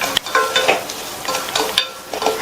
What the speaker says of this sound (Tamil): மீதி இருக்கிற நெய்ல 1/4 கப் ரவையை சேர்த்து லோ ஃப்ளேம்லயே வச்சு இந்த ரவையை நல்லா வறுத்துக்கங்க.